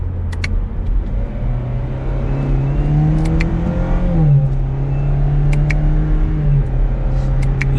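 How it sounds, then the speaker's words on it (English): A 2021 Chevrolet Camaro 1LS in sport mode pulls hard in second gear, its engine note rising and dipping steadily from inside the cabin, loud and continuous with no talking. "we can go down to second gear, give it a little bit of gas"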